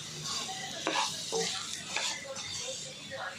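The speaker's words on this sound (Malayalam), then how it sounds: "ഇനി ഒന്ന് നല്ലോണം വഴറ്റിയെടുക്കണം. ഞാൻ കുറച്ച് കറിവേപ്പില ചേർക്കാൻ പോകുന്നേ." Chicken masala with curry leaves being sautéed in a pan for a Kerala-style chicken perattu, a steady close hiss of frying with occasional scraping stir strokes and faint voices in the background.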